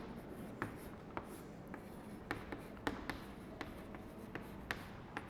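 Chalk or marker tapping and scratching on a classroom board while writing numbers for a maths lesson, a series of short, light, irregular taps and strokes over a faint room hiss.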